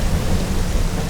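A group of people slaps the floor to imitate thunder during a children's fitness activity, producing a dense, loud, continuous rumbling wash like a storm, with no distinct individual hits.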